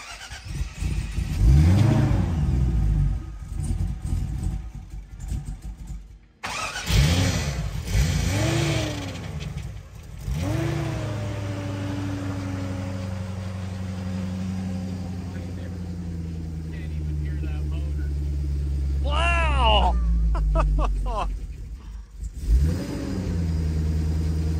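A twin-turbo Jeep engine on a dyno revs hard several times, each rise and fall close and loud, then holds a long high-rpm pull before dropping back and revving again.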